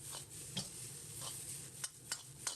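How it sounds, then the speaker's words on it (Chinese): Onion and green pepper shreds stir-fried in a hot wok after scrambled egg, a steady low sizzle with several sharp scrapes and clinks of the spatula against the pan. "放入准备好的洋葱丝、青椒丝，把洋葱、青椒炒出香味。"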